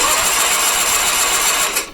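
A Bolens QT16 lawn tractor's starter cranks the engine in a loud, steady, whirring mechanical grind that holds for about two seconds, then begins to fade.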